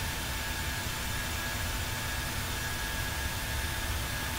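Simulated Boeing 737-800 engines from the PMDG flight simulator drone as a continuous, even, hissing roar with a thin steady whine, unchanging throughout and free of speech.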